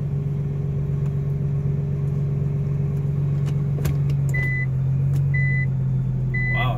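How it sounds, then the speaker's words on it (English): A Nissan GT-R R35 parking sensor gives three short, evenly spaced beeps over the car's steady, loud low engine hum. "So it beeps to tell you that you're actually hitting."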